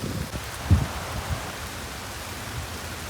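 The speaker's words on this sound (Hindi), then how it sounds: "और काफ़ी तेज देखिए बारिश आ गई है" Heavy rain falling over a farm field with marigold and papaya plants, a steady broadband hiss with a few louder drops or thumps near the start.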